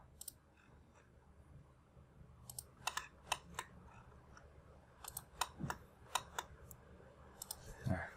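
A computer mouse clicks while drawing a floor in Revit LT 2017 software, with faint, close, crisp clicks coming singly and in short clusters over a quiet background.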